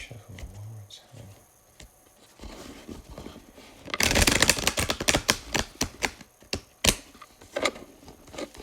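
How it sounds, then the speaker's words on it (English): Tarot cards being shuffled by hand: quiet handling at first, then a burst of dense riffling followed by a run of sharp, irregular card slaps and flicks, close and fairly loud. "Shuffle one more time."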